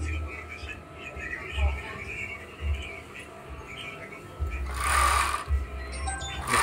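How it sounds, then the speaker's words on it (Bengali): An overlock sewing machine stitching and trimming fabric, a low mechanical whir in short runs with a louder burst near the end, under someone talking. "এই যে দেখতে পাচ্ছেন ওভারলক মেশিন কাজটা করবে এখন"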